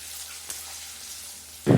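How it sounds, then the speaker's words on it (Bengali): Potatoes fry in white cooking oil, a soft steady hiss that suddenly swells into a loud, close crackling sizzle near the end, with no voices. "সাদা তেল দিয়ে আলু ভাজলে না মানে আলুগুলো খুব সুন্দর মুচমুচে হয়।"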